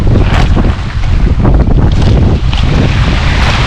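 Strong, steady wind roars across the Black Sea shore at Lazarevskoye on a cold day, buffeting the microphone with constant rumbling gusts and mixing with the wash of waves, with no voices.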